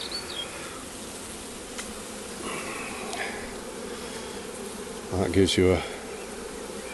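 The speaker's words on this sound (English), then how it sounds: "all the bees are clustered to the side as well, because obviously they're still in the swarm mode" A swarm of honeybees clustered on comb, still in swarm mode, buzzes steadily and close up throughout, with a louder burst of wingbeat drone near the end and brief speech.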